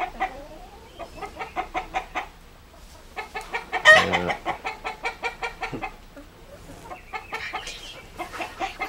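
Chickens cluck at a chicken house in rhythmic bursts of repeated clucks, close and fairly loud, with one sharp squawk partway through and softer clucking continuing after it.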